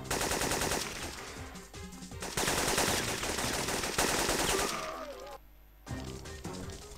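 Automatic rifle fire from the video game Syphon Filter rattles in loud, dense sustained bursts with cracking impacts, briefly dropping to a short lull before resuming.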